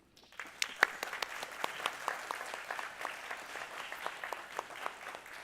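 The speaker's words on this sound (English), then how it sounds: "Let's applaud them." Audience at the IFPA Forum 2022 applauding the panel participants: a sustained round of clapping with distinct sharp individual claps standing out over a moderate, even wash, starting abruptly and continuing to the end.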